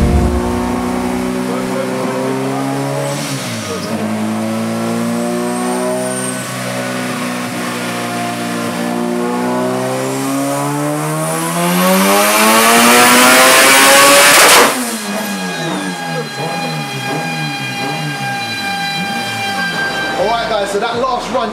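A car engine revving hard on a dynamometer, the pitch climbing steadily through the gears to a loud peak near the end before cutting off, followed by a lower rumbling idle, close and very loud.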